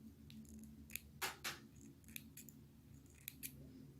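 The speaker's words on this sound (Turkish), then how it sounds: "İplerimi ve misinalarımı kesiyorum." Scissors snipping through thread and nylon fishing line during needle lace work, a few quiet, crisp cuts spaced apart, close and alone with faint background hum.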